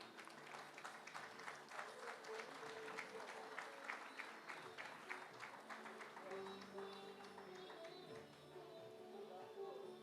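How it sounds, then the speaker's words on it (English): Applause from the audience at an inaugural function, a moderate crowd clapping steadily and fairly softly, with some murmuring voices and low tones mixed in, tapering slightly toward the end. "Give them a huge round of applause."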